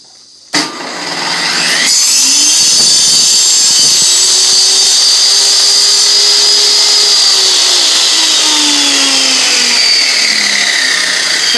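A power saw spins up and whines loudly while cutting through wood flooring, a sharp start followed by a sustained high-pitched blade scream held steady and close.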